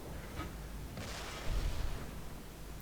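Tank cannon fire in the World of Tanks video game: one sharp blast is followed by a heavier, deep boom and a low rumble, all set against steady background noise.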